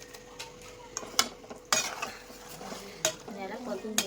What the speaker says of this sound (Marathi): आणि याला परतून घेत आहे.